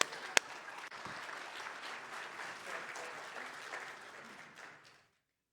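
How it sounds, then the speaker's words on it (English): A church congregation gives a round of applause for Gary, a dense wash of clapping that holds steady for about five seconds before stopping abruptly, heard at moderate distance. "Give Gary a round of applause."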